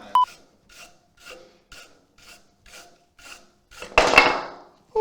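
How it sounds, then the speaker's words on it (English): A hand polishing brush buffs a waxed textured item in short regular strokes, about eight soft brushy swipes followed by one longer, louder rasping pass, close up with no talking. "I buff it with a hand polishing brush"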